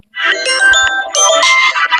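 A phone ringtone sounds for about two seconds, a bright, steady electronic melody of repeated tones, loud and close with no talk over it.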